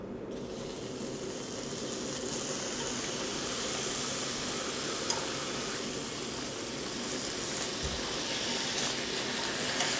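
Beef brisket stir-frying in a hot pan over high heat, a steady dense sizzle running unbroken and fairly loud throughout, with faint clinks of stirring and no voices.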